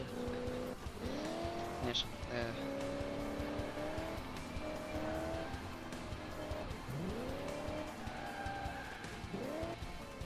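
Tires squeal and skid as a handbrake is pulled on a car in Crash Time 4, several rising screeches over a constant engine roar, with someone talking over the driving.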